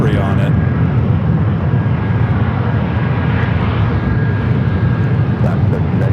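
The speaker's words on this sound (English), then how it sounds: "Let's zoom in on that Hawaiian A321." A Hawaiian Airlines Airbus A321 airliner at San Diego airport roars loudly and steadily throughout, with a broad engine rumble that never lets up and a voice talking over it.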